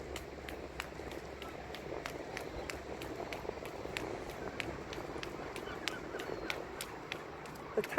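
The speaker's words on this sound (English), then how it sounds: "The tappy tappy sound is my Skinner's socks." Steady tapping footsteps of a runner in Skinners sock shoes on a seafront path in Brighton, quick even rhythm over quiet background ambience, fairly faint.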